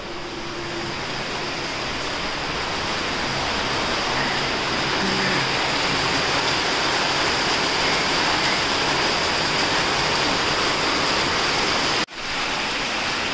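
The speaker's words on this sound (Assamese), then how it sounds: "আপোনালোকক দেখুৱাই আছোঁ বৰষুণ কিমান দিছে" Heavy rain pours down in a steady, dense hiss that fills the whole stretch, loud and unbroken, with no talking.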